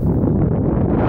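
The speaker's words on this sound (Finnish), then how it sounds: "tuuli on kyllä navakka" Strong, gusty wind buffets the microphone outdoors in northern Norway, a steady low rumbling roar with no voices.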